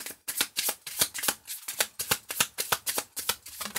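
A deck of tarot cards is shuffled in a rapid series of crisp, riffling flicks and slaps, close and clear with brief pauses between bursts.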